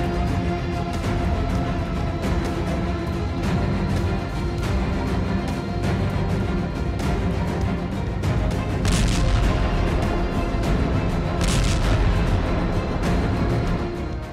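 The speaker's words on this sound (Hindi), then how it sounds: "बल्कि यूएस वायुसेना के हमलों से इराक के कई इलाके दहल उठे" US Air Force strikes in Iraq: a dense barrage of heavy booms and blasts, loud and continuous, repeated impacts rumbling on top of one another for the whole stretch.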